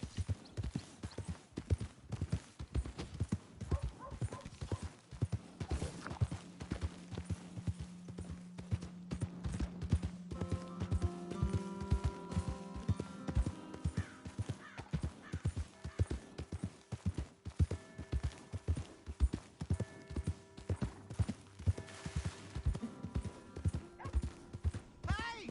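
A horse's hooves clip-clop in a steady, rhythmic walking beat in Red Dead Redemption 2, the repeated thuds close and prominent throughout, with voices talking and some tonal game sound rising partway through.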